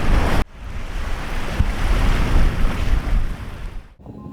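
Sea waves wash in at Tanjung An beach on Lombok in a loud, broad, continuous surge mixed with wind noise on the microphone, with no voices.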